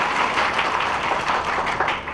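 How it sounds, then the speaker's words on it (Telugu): An audience applauds great poets at a religious discourse, with dense, steady clapping from many hands throughout, loud and sustained without a break. "ఒకసారి అలాంటి మహాకవులకు ఒకసారి చప్పట్లు పట్టండి"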